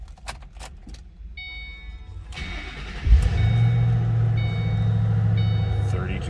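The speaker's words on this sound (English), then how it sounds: "Fire it up so you can hear it run." A 2007 Ford Mustang Shelby GT with its V8 cranks with keys jangling and a chime sounding, then catches and settles into a steady, close, rumbling idle.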